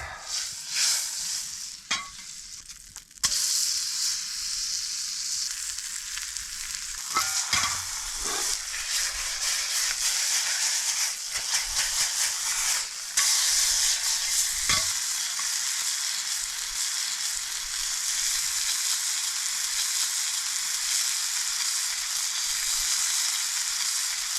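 Steak and eggs sizzle steadily in a pan over a fire at a snowy bushcraft camp, a continuous loud frying hiss with occasional pops and a few soft knocks, no talk.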